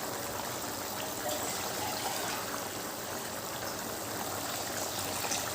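Water poured steadily into a pot of chicken biryani rice and masala, a continuous soft splashing stream, fairly faint and unbroken with no talk.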